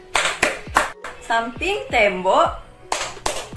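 Sharp, close hand claps beat in rhythm for the Indonesian tepuk rumah clapping game, with groups of claps separated by a voice chanting the game's lines between them.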